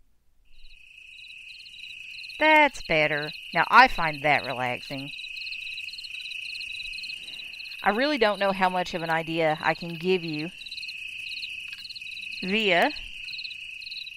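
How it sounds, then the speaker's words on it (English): Cricket and frog chorus from a country night soundscape playing on a small smart speaker, a steady high chirring throughout with someone talking over it in bursts. "And you can hear all the crickets."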